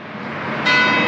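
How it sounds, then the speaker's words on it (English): A church bell in Budakeszi, in the Buda Hills near Budapest, rings out a loud clang partway through, after steady outdoor background noise. "As the church bell lets out its, what is that, 5 o'clock clang?"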